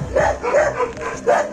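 A big dog barking at close range, three loud, bright woofs spaced about half a second apart with a short whine between them, no talking over them.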